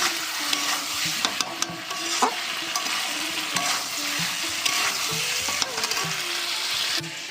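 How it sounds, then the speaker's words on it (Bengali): Egg curry sizzling and frying in a pan while being stirred, a steady broadband hiss with scattered scrapes and clinks of the utensil, close and continuous with no talk. "ডিমের ঝোলটা কষিয়ে আমি গেছিলাম বাসনটা ধুতে তো কষানো মনে হয়ে গেছে এবার জল দেবো"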